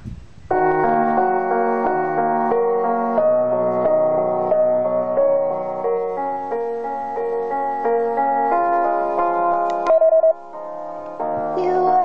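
Steady tonal music with sustained harmonic notes plays continuously at moderate volume from a homemade portable Bluetooth speaker, with a brief louder moment near the end.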